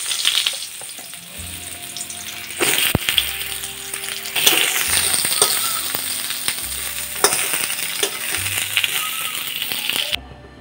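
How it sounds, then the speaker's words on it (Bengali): Pointed gourds (potol) fry lightly in oil in a pan, a continuous close sizzle throughout with repeated clinks and scrapes of a utensil turning them, plus a few low thumps; no talk. "ওই তেলেই পটলগুলোকে হালকা করে ভেজে নেব।"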